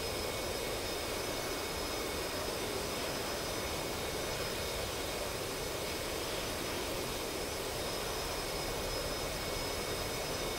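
A jet aircraft in the DCS World flight game spools up for takeoff, giving a steady, dense roar with a high whine that holds throughout, with no talk.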